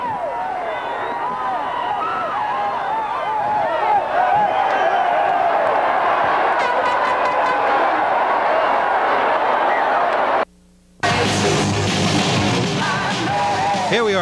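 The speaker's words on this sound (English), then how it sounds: "Look at them go and cheer that crazy madman from Texas." Wrestling crowd at Roberto Clemente Coliseum in Puerto Rico cheering and yelling for Bruiser Brody in 1988, a dense continuous roar that fills the arena, broken by a brief cut near the end.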